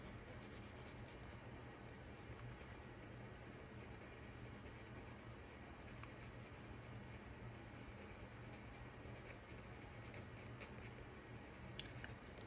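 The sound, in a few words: colored pencil drawing on paper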